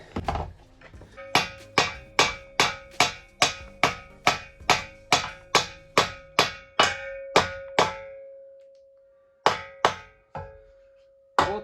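Steady hammer blows strike wood while building a ladder, about once every half second, a long run of sharp knocks, then a pause and a few more hits.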